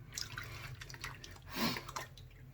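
Water rinse at a sink after a wet shave, soft splashing and dripping with a brief swell of running water midway, quiet and close.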